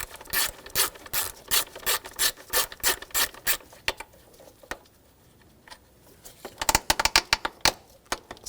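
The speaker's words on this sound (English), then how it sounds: "Take this nut off, use a 10mm socket." A ratchet with a 10mm socket working a nut loose on a 2000-2006 BMW X5 3.0L, rapid rhythmic clicking bursts up close, a quiet pause, then a faster flurry of clicks.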